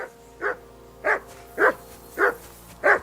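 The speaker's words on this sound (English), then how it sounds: "Henry, that barking's driving me nuts" Five evenly spaced barks from a single dog in the video game Kingdom Come: Deliverance II, each a short sharp woof, close and clear with near silence between them.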